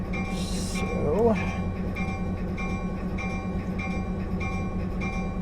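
A locomotive in the Railworks train simulator runs up a gradient with a steady low engine drone and rhythmic rail noise, a brief hissing burst near the start, and a voice talking over it.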